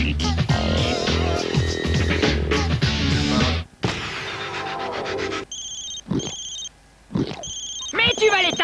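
A mobile phone rings in repeated short electronic bursts, loud and close, following a stretch of music and talk.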